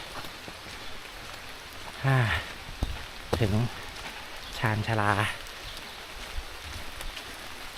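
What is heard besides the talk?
heavy rain falling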